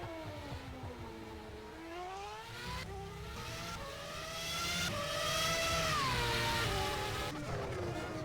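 Race cars at the Aegna Saar Circuit during pre-season testing, several engines whining and shifting pitch together as they overtake, the sound swelling louder toward the end before easing off, heard without speech.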